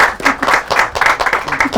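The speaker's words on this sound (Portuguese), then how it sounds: "Isso merece uma salva de palmas" A lecture-hall audience in a macroeconomic modelling class claps in a short, close burst, quick uneven hand claps pulsing in waves for under two seconds.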